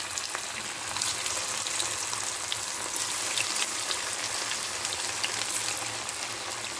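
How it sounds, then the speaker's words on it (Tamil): Fenugreek leaf (methi) vadas deep fry in hot oil, a dense, even bubbling sizzle with fine popping crackles running continuously at moderate volume, with no talking. "இந்த மாதிரி கலர் வர்ற வரைக்கும் பொரிச்சு எடுத்துக்கணும்"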